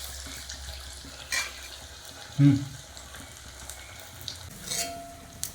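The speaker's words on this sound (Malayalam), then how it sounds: "നമ്മൾ ആ കാടമുട്ടക്കിളിക്കൂടൊക്കെ ഫ്രൈ ചെയ്ത് കഴിയാനായിട്ടുണ്ട്" Quail egg nest snacks frying in a pan, a soft steady sizzle with a few scattered clinks and bumps of stirring, quiet and close.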